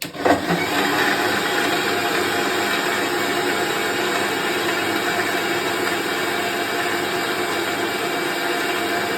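A kitchen mixer blends milk and fruit for a shake, running as one loud, continuous whirring drone from start to finish after a brief jolt at startup, with no talking.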